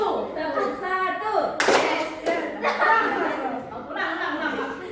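A class of children claps a patterned rhythm in a classroom, sharp group claps bunching into bursts amid chatter and chuckles, with a teacher's voice and kids speaking over the clapping.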